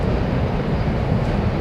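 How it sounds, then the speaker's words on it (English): A passing train heard from inside a house, a low continuous rumble and rolling drone, steady and moderately loud with no talk over it. "There's that train again."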